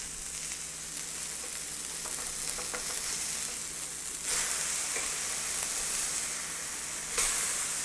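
A burger patty fries in a hot pan with a steady, close sizzle and crackle that holds for several seconds. The hiss swells slightly near the end, and no voices are heard.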